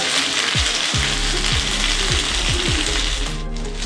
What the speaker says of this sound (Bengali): এবার এর মধ্যে দিয়ে দিচ্ছি পেঁয়াজ কুচিটা, ক্যাপসিকাম, কাঁচা লঙ্কা কুচি। তো সবগুলোকে আমি একটু তেলে ভালো করে একটু নেড়ে নেব।